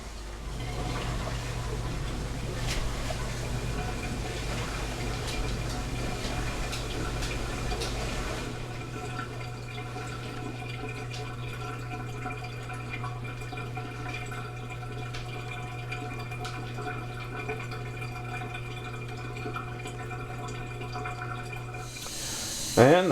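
Melted coconut oil runs from a trigger funnel into small square tray cups, a steady low liquid pour and fill sound that carries on for most of the stretch before a brief clatter at the end.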